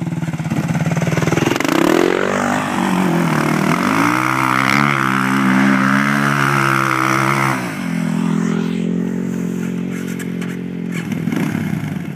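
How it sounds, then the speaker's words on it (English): A 4-wheeler ATV engine with a manual clutch revs hard and steadily under a learner rider, its pitch rising and falling through sustained throttle surges, loud and close throughout, with no talk. "Callie, more gas. Always more gas."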